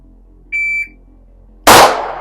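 A shot timer gives one sharp electronic beep during a beginner pistol drill, followed about a second later by a loud, close pistol shot that rings out and decays.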